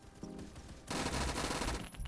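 Rapid automatic gunfire from the Phantom Forces shooter game erupts in a loud, dense burst after a short quieter stretch of clicks and rattles, and it keeps going to the end.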